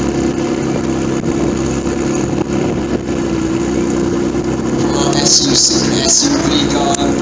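Supercars such as a GT40 rumble past in a parade, a continuous loud engine and exhaust drone with brief revs blipping above it toward the end.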